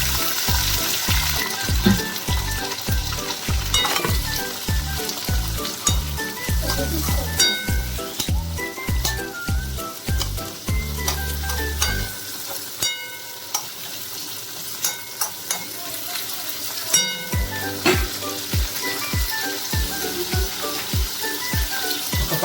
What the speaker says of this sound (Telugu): ఒక 5 minutes టమాటా కూడా వేగాక